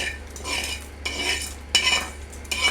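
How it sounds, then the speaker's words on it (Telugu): A spoon stirs a hot tempering into peanut chutney in a kitchen bowl, making three or four close, scraping and lightly clinking bursts of strokes with short pauses between them. "పోపు అనేది వేసేసుకుంటున్నాను."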